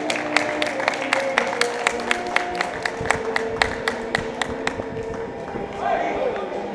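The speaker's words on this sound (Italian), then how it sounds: "Un applauso." Audience clapping at a Murgese horse breed mare championship show, sharp regular claps spread through a crowd over steady background murmur, continuing for several seconds before thinning out.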